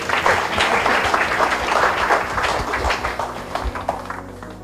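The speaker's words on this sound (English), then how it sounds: "So let's give a big round of applause to Mr. Somnath for sharing your valuable insights with us, sir" An audience at a Chandrayaan 3 exhibit inauguration gives a round of applause for Mr. Somnath, a lively spread of many hands clapping nearby that slowly thins toward the end.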